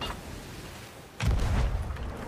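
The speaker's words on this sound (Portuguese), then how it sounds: "Tiros de aviso?" Cannon shots fired as warning in the pirate video game Sea of Thieves: a sudden low booming burst after a quieter stretch, followed by sustained rumbling, fairly loud and close, with no talk over it.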